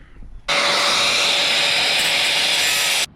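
A side grinder cuts through rusted bolts on a jet ski trailer, a loud, steady, harsh grinding that starts abruptly and runs continuously for about two and a half seconds before stopping.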